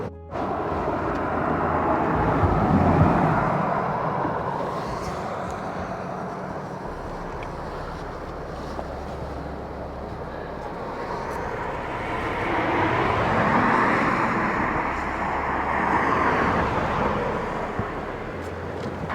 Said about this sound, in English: it's just shaky when these vehicles go by